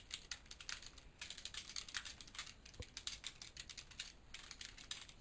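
Fast typing on a computer keyboard, a continuous run of light clicky keystrokes in quick bursts with brief pauses, quiet and close with no talk.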